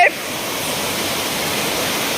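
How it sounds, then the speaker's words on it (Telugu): A waterfall in Araku Valley roars steadily up close, a dense, unbroken rush of falling water that fills the whole clip with no voices over it. "జలపాతం"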